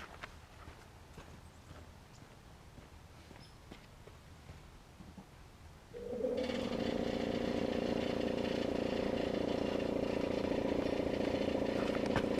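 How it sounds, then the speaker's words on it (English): Air compressor kicks on partway through, jumping from quiet background to a loud, steady mechanical drone with a rapid pulsing chug that continues unbroken to the end. "I'm going to fire up my air compressor for a sec."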